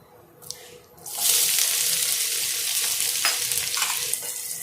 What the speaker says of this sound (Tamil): எல்லாம் சேர்த்து நல்லா வதக்கி விடலாம்.